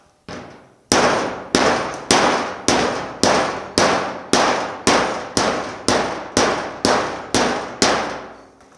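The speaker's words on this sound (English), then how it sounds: "I can actually see where the dolly's hitting on the inside of the skin here" A hammer strikes a dolly over and over to push out a dent in the sheet-metal hood of a 1950 Chevy truck. Thirteen sharp, ringing metallic clangs come at an even, unhurried pace, each one decaying briefly.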